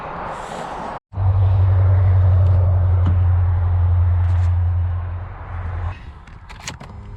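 The electrically adjusting steering wheel of an AWD V6 Honda Legend executive car gives a steady low motor hum for about five seconds inside the cabin, followed by faint clicks.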